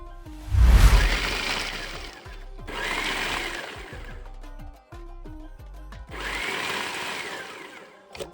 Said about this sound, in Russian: После полного остывания эту смесь отправляем в блендер.